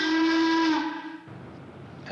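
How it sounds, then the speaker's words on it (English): Steam whistle of the salt plant boiler room at Watkins Salt, a loud steady multi-toned blast that cuts off sharply, leaving a hissy rumble and a brief second burst at the end. "in the boiler room at Watkins Salt by pulling the whistle twice"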